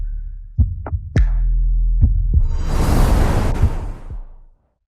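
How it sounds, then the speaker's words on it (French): Accelerated heartbeat sound effect in a romantic action film, a quick series of deep thumping beats with a low sustained throb and a swelling whoosh over them, loud and close, no speech. "je ressens un battement de cœur accéléré quand je suis avec elle"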